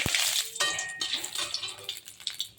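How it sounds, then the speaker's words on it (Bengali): Cumin seeds and bay leaves fry in hot oil in a pan for an onion- and garlic-free chicken curry. A crackling sizzle comes with metallic clinks and scrapes of stirring against the pan, loud and close. "একটু জিরেটা তেজপাতাটা একটু লাল লাল হবে। দেখুন ভাজা হচ্ছে"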